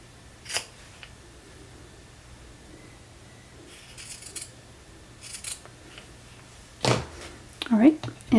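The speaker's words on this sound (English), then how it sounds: "So I'm going to cut these in half." Scissors snip paper stamp tabs in half in a few sharp, close cuts spaced out over quiet moments, with faint movement noises between.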